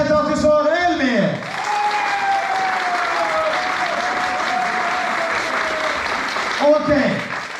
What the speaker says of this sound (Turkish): Please don't shout. Just applause.